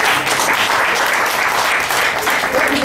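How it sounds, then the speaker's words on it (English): A crowd claps together at the close of a teen group's performance of traditional Ugandan dances, with dense and steady applause filling the whole stretch at a loud level. "And let us clap for ourselves for the last time today."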